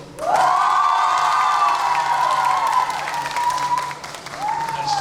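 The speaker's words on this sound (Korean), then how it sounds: "우리 주민 여러분께서 이렇게 박수를 쳐주시고 응원해 주시니까 감사합니다" Residents at a public town-hall dialogue in Sejong applaud and cheer, with sustained clapping, a long rising cheer or whistle above it, and a fresh swell of noise near the end.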